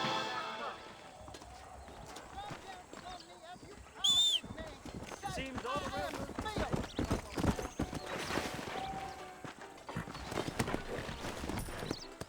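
A horse in the Red Dead Redemption video game trots with rhythmic clip-clop hoofbeats and a short neigh, close and steady, with someone talking over the sounds.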